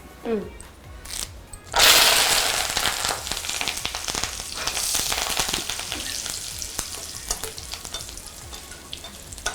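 Loud, sudden sizzle as curry leaves hit hot oil left from frying eggs, then steady crackling frying with stirring scrapes; a voice speaks briefly at the start.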